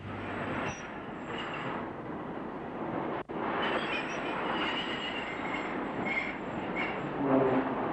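Ivatt Class 2 steam locomotive number 46437 passing with a steady loud rumble of rolling wheels and rail noise, faint squeals and clatter over eight seconds, no voices.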